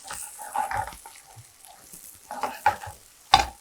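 Onions and curry leaves sauté in a pan for Chettinad crab masala, giving a soft, uneven sizzle with a few louder stirring scrapes and a sharp clatter near the end.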